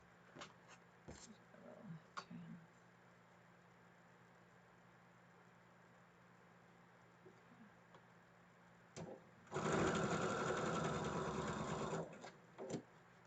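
A sewing machine stitches a quilt block seam in a quick burst of about three seconds of steady, rapid whirring. Quiet clicks and handling sounds come before and after, close in a quiet room.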